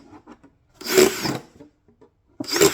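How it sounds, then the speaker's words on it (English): Drill bit boring holes into a plastic milk jug while preparing winter sowing containers: two close, loud rasping bursts, a long one and a shorter one, with faint handling noises between. "I'm going to just start drilling holes."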